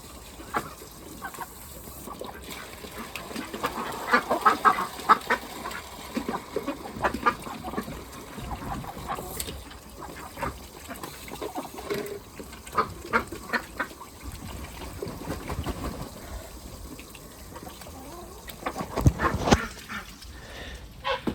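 Chickens clucking and squawking in an outdoor farmyard, a steady busy chorus of birds with occasional louder calls near the end.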